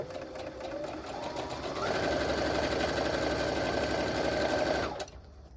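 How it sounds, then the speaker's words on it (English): A sewing machine runs steadily close by as quilt fabric scraps are stitched along a straight line, its motor humming and needle chattering rapidly, picking up speed partway through, then stopping abruptly. "now I can just sew right down that line"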